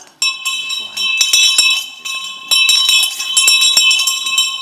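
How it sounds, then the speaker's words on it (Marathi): A bell rings continuously for several seconds to signal the start of a stage play, with a steady, piercing ring over a rattling, clattering buzz and no speech. "बाबानो बेल देतोय रे."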